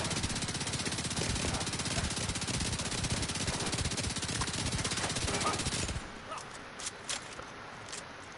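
Rapid sustained automatic gunfire from The Division 2, loud and close, firing continuously for about six seconds against an enemy's shield before stopping, followed by a few scattered lighter impacts.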